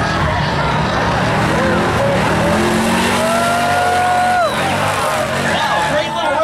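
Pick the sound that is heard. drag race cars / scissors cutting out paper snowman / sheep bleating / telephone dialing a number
drag race cars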